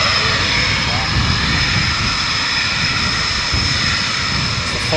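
Typhoon jet fighters of RAF No 3 Squadron roar overhead on their return to RAF Coningsby, a loud, continuous broadband engine rumble and whine holding steady throughout.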